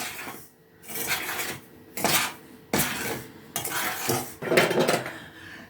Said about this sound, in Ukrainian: Так старанно мішаю, що зараз буде все на підлозі на доріжці.